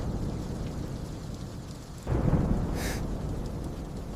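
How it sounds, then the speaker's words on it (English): A night thunderstorm with steady rain hissing throughout; about halfway in, a low roll of thunder swells up and rumbles on beneath the rain. "The storm will end soon."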